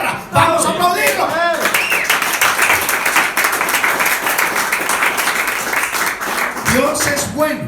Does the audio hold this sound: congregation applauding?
yes